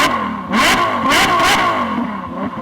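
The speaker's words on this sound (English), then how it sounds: "Start your engine." A race car engine revs loudly and close, rising and falling through several throttle blips with a clattering mechanical edge, alone with no voices over it.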